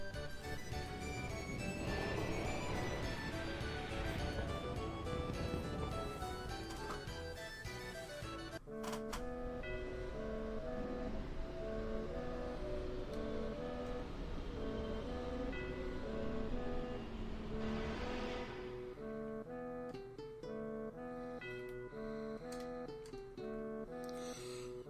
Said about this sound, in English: just get back on the railway car, and this will take us back to the village of North Coral